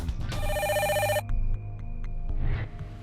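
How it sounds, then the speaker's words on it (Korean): A telephone ringtone sounds as an effect in a Korean true-crime television program, a loud electronic trill lasting about a second over a low music bed, followed by faint beeps. "어느 날 필리핀에서 전화가 걸려옵니다."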